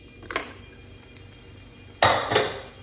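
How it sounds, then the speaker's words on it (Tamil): The whistle comes off a pressure cooker and its lid is opened, giving two sharp metallic clanks, a small one early and then a louder clatter near the end, with quiet pauses in between. "இப்போ விசிலை எடுத்து விட்டுட்டு ஓப்பன் பண்ணி பார்த்துருவோம்."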